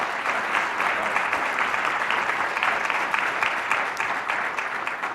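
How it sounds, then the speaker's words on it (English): An audience claps steadily, a dense, even wash of applause that holds at the same level from start to finish. "let's give him one more round of applause."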